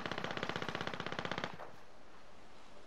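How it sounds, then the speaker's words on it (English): Automatic gunfire in Call of Duty Cold War: a fairly faint, rapid burst of evenly spaced shots lasting about a second and a half, then quiet background hiss. "Whoa, I just seen a bullet go by me."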